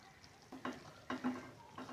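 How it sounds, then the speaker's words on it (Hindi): A spoon stirs masala with ground red chili in a pan for mutton kaleji, with soft sizzling frying under three or four distinct scraping stirs, quiet and close. "इसको भी हम ऐड कर देंगे इसमें ताकि ये भी खूब अच्छे से भुन जाए मसाले सारे"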